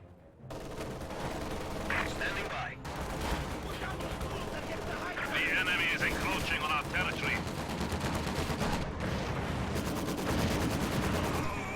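Quad-mounted machine guns on a half-track firing in a strategy game, heard as a dense, continuous rattle of rapid bursts that runs the whole time and stays loud, with a commentator talking over it.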